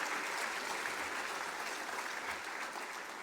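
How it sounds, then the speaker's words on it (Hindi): A convocation audience breaks into steady applause, a dense, even wash of clapping from many hands that holds at a constant level for a few seconds before easing off slightly. "थोड़ा ताली हो जाए।"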